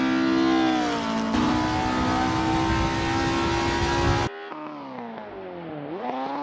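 A Ford Escort race car laps a circuit, its engine note holding a strong harmonic whine that shifts pitch with gear changes, then drops abruptly to a quieter, thinner tone as it lifts off and rises again toward the end.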